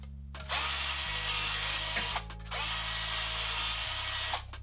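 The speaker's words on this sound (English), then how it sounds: "I'm gonna try to hit this area, especially this, with a wire brush on a drill" A wire brush spun by a power drill scrubs rusty rear air suspension parts on a Mercedes-Benz W212 E-Class, two loud sustained whirring bursts with a brief pause between, no talking.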